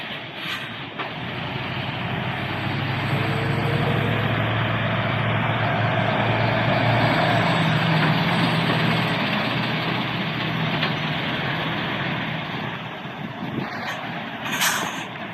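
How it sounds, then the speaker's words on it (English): Trucks idling at the Junction 29 truck stop in Chesterfield on a rainy, dark evening, a steady loud low engine rumble with a broad wash of noise throughout and a brief hiss near the end. "I'm currently in Junction 29 truck stop in Chesterfield"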